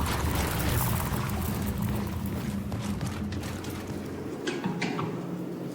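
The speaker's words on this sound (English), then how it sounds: "Like going through the water in a cave underground area." Water rushing and splashing through an underground cave in a video game, a dense continuous wash with faint clinks near the end.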